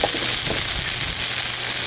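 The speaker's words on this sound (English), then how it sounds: "see that sizzling" A spatchcock chicken sizzles on a modified Weber kettle grill, a steady close crackling hiss of fat and juices with no voices.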